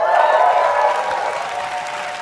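Dense, sustained applause from an in-person crowd at a Google presentation event, a loud, even wash of clapping that fills the whole moment and eases slightly toward the end.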